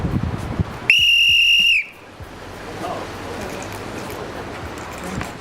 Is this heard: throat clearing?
no